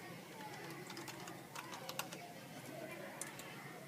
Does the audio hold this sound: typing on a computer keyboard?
yes